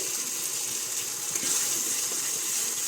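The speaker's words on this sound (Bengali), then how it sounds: "এখন আমি এর মধ্যে দেবো ঝোল, একটু জল দিয়ে দেবো" Water is poured into a pan of spiced fish curry masala for a curd-based catla fish curry (doi katla), making a steady, even hiss and splash throughout with no talking.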